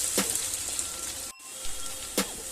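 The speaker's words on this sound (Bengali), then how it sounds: "যতক্ষণ না আলুগুলো লাল হচ্ছে ততক্ষণ এইভাবে নেড়ে চেড়ে ভেজে যেতে হবে।" Potatoes sizzle and crackle as they are stirred and fried in a pan, a steady close hiss broken by a few spoon scrapes and a brief drop in sound midway.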